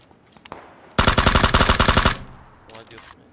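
Loud, rapid burst of automatic gunfire from the PUBG battle royale shooter, a steady stream of shots lasting about a second, set between quieter stretches with faint background sounds.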